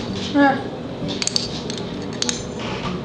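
A spoon stirs a raw Italian zuppa in a bowl, making a few light clinks and scrapes against the dish, with a brief voice sounding near the start.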